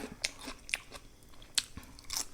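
Grilled Thai meatballs with dipping sauce are bitten and chewed close up, several crisp crunchy bites spaced over a couple of seconds against a quiet room.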